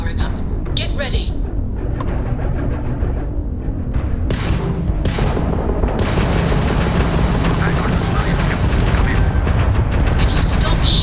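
Weapons on an enemy spaceship in Starfield fire in loud, continuous booming bursts and heavy blasts that fill the scene. A voice speaks partway through.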